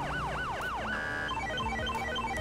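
A wailing electronic police siren in the video game GTA 5 sweeps up and down, then switches to a rapid yelp, loud and continuous with no voices.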